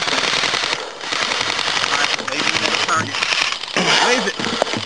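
Rapid airsoft gunfire crackles almost nonstop during a team skirmish, dense bursts of close and distant shots with yelled voices mixed in.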